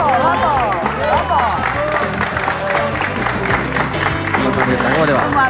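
Crowd applause and cheering greet President Néstor Kirchner on his first day in office in 2003, a dense, continuous wash of clapping mixed with excited voices and chatter throughout.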